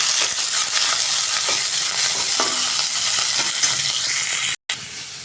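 Chopped onion fries in hot oil for a gravy, a loud, dense, continuous sizzle with stirring scrapes, close up and without speech, briefly cut to silence near the end.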